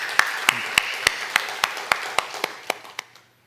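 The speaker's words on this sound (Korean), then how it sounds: "우리 주님께 영광의 박수 올려드리겠습니다." A church congregation claps in praise at a Korean Wednesday service, about a dozen distinct, evenly spaced claps in a steady rhythm that stop abruptly.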